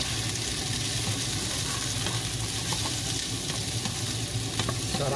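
Sausage sizzles and spits in a pan with onions, a dense, steady frying hiss that runs throughout with occasional stirring clatter and no talking.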